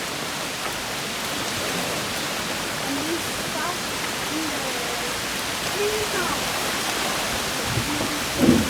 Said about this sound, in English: start raining here.